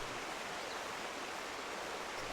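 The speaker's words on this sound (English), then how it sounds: "This waterfall's really loud," Roaring waterfall in the Final Fantasy XIV game world, a steady broadband rush of falling water that runs unbroken and fairly loud with no talking over it.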